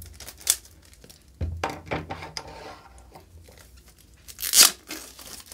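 Xiaomi phone packaging, Onyx Black, being unboxed: paper and plastic tearing and crinkling in short irregular bursts with a few sharp rips, close up, without speech.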